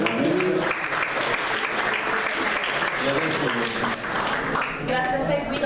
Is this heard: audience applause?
yes